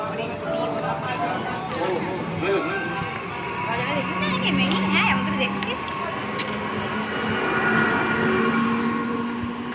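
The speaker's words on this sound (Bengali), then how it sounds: "আর দেখো ট্রেনটাও চলে গেল" Rumbling train pulling away from a station, with rattling wagons and squealing wheel tones over a steady roar, close and loud, with people talking throughout.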